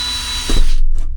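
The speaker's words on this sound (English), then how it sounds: "I've done my marks here so I know where the beam is that goes across to drill." A power drill bores a small pilot hole into a metal crossbeam in a campervan ceiling, a short whirring burst that rises and then cuts off abruptly, followed by a brief tail.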